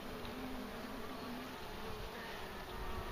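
Honey bees buzzing inside a struggling hive around a caged queen, a continuous close drone of many wings with a steady hum and no voices.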